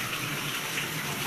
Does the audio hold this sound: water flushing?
yes